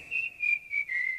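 A clear, bright whistled tune in four sustained phrases with short gaps between them, close and alone, with no talk around it.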